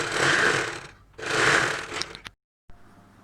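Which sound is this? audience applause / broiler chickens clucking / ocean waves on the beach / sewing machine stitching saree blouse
sewing machine stitching saree blouse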